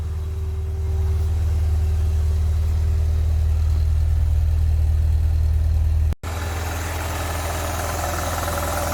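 A Ford CVH engine idles smoothly nearby with a steady, even low drone and faint vibration. A brief dropout near the end is followed by a brighter, noisier engine tone.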